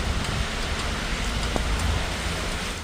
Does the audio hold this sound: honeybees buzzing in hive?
no